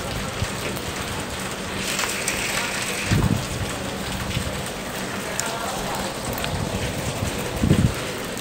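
Heavy rain pours steadily on surfaces at a market in Hong Kong, a dense constant hiss with a few louder splashy bursts, no talking.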